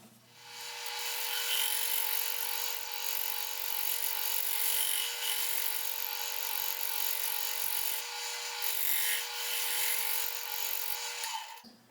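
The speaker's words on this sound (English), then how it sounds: "for the last few minutes I've been using this negative rake scraper to kind of clean the edges up here" A negative rake scraper works the edge of an elm bowl spinning on a lathe, giving a steady, close, continuous hissing scrape that runs for about eleven seconds before stopping, with a low tonal hum from the lathe underneath.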